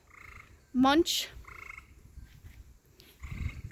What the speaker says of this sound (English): Hear the frog.